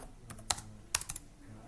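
Typing on a computer keyboard while filling in an online form: a handful of crisp, close key clicks in two quick clusters with a short pause between them.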